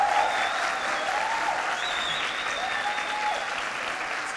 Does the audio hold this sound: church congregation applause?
yes